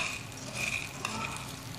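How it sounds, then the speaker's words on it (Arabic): Half a kilo of small cut pasta frying in three spoons of oil while being stirred: a steady close sizzle with scraping stir strokes, continuous and fairly quiet, no voices. "هنقعد نقلب فيها لحد ما تحمر"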